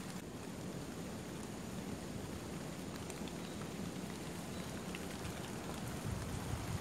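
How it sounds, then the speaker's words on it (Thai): Steady rain falls during a mushroom and fruit foraging trip, a dense, even hiss of drops on the surroundings with no break and no voices throughout. "ตากฝน"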